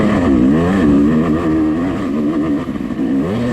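A Yamaha YZ250X two-stroke dirt bike engine revs hard up a silty hill climb during an off-road race, its loud, close whine rising and falling continuously with no speech.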